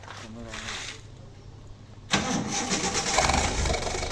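A car engine with an aftermarket exhaust muffler, on a vehicle like an L300, Panther, Luxio or Gran Max, cranks and catches halfway through, then settles into a loud, rumbling idle. A voice talks over the quieter stretch before it starts.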